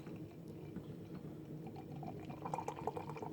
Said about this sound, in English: Get this guy straight into a glass.